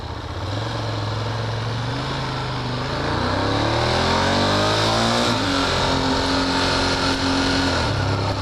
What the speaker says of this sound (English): on here on the 1200 Monster. The thing sounds pretty damn good.